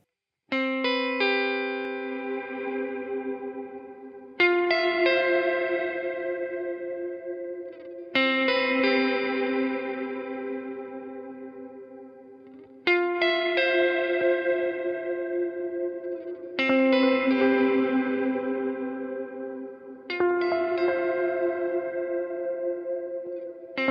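Guitar chords strummed through an expression-controlled effects pedal ring out with swirling, chorus-like modulation, each chord sustaining and fading before the next, alone and clear.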